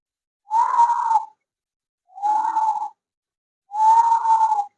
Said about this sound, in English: This is called pursed lip breathing.